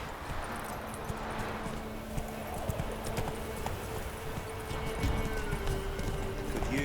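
Roach, a horse in The Witcher video game, gallops with a steady stream of clip-clopping hooves over ambient game sound, close and continuous with a faint snort near the end.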